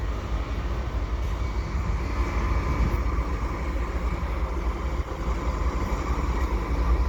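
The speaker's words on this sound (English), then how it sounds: "So GE locomotives here, AC4400 CWM." A Canadian Pacific intermodal freight train pulled by GE AC4400CWM diesel locomotives arrives at Dorval with a loud, steady rumble and a continuous rolling roar of wheels and engines close by.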